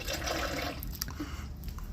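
Water poured into an air conditioner drain pan during an A/C tune-up, a splashing, trickling flow that is fuller at first and thins into drips and light gurgles.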